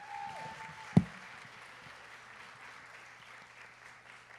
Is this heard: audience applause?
yes